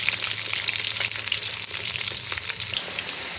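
Potato portions frying in oil in a cauldron, a dense steady sizzle with crackling bubbles throughout, close and fairly loud with no talking.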